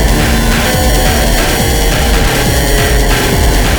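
Arturia MiniFreak synthesizer through a heavy bit-crusher effect, a loud, dense, gritty distorted tone pulsing in a steady repeating rhythm, with no voice.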